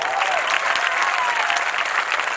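Devotees clapping loudly during a Shrimad Bhagwat Katha, a dense, even burst of applause from a close crowd, brief and sustained without speech.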